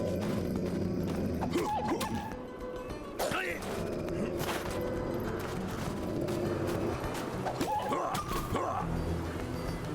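Horses neigh in the werewolf-hunting video game Sang-Froid: Tales of Werewolves, with two distinct whinnies rising over a busy game soundscape of rustling and low rumble.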